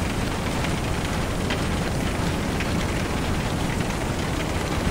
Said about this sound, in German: könnt ihr mal den Hagel abstellen?